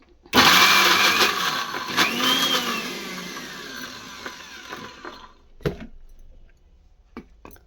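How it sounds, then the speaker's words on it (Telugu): A mixer grinder roars loudly, grinding soaked moong dal for chapati batter without water; the motor whines steadily for about five seconds, then stops, followed by a few knocks of the jar. "మిక్సీ పెట్టేస్తాం మిక్సీ పట్టేస్తాను"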